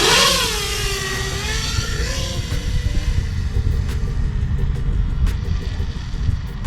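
An iFlight Chimera 7 HD long-range FPV quadcopter flies with a steady, loud motor whine. The pitch sweeps up and down as it accelerates and cruises, with a rough wind rush underneath.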